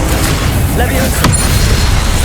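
Leviosa spell cast in Hogwarts Legacy, a brief whooshing magical effect ending in a sharp crack and shimmer, set against loud booming game background, with a voice calling out.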